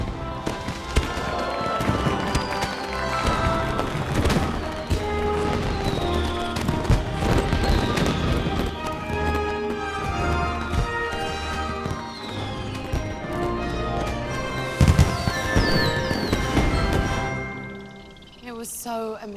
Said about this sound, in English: Everyone, come and enjoy the fireworks.